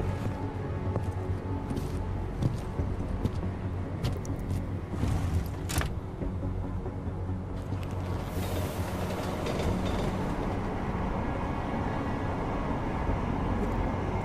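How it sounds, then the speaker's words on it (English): A private train moves along in the video game Deus Ex: Mankind Divided, giving a continuous low rumble with scattered clicks and hisses. No one talks over it. "Now we should have a private train."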